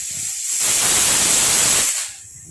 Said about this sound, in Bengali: একটা সিটি পড়লো, এই আর একটা পড়বে।